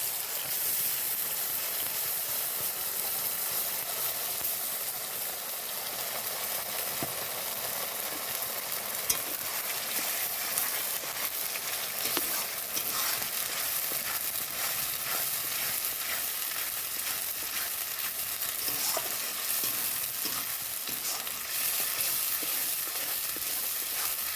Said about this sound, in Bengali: পেঁয়াজ ভাজা হয়ে গেছে, এখন আমি মশলাটা ঢেলে দিচ্ছি